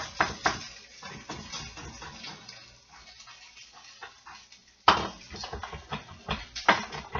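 A kitchen knife chopping through food on a cutting board, producing irregular close thuds and scraping clatter, with a sharper knock near the middle and more rapid cuts after it, with no voices over it.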